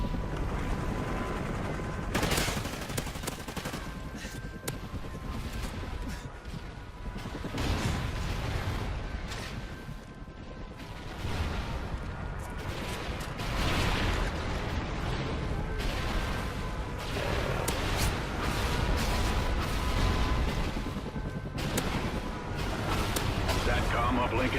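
Mortar artillery salvo in Call of Duty Ghosts on the Warhawk map: a dense, sustained barrage of heavy blasts and crashing impacts, loud and continuous, with game voice callouts mixed in.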